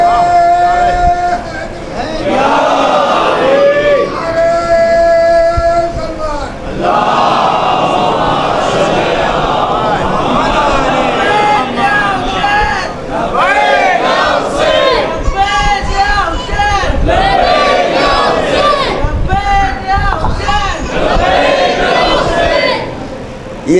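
A large majlis audience chants religious slogans in loud, rhythmic bursts, many voices shouting together in repeated call-like phrases that fill the hall.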